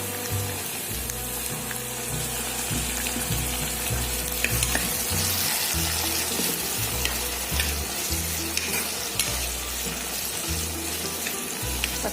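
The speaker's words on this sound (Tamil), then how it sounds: "தக்காளி இப்போ வந்து நல்லா இதில் வதக்கணும்" Tomatoes fry with onion and garlic in a pan, giving a steady close sizzle with soft scraping stirs and a low rhythmic rumble throughout, no talking.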